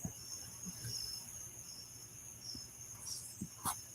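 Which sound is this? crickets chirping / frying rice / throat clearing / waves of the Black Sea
crickets chirping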